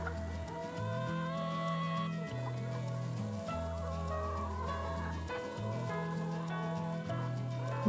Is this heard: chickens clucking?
yes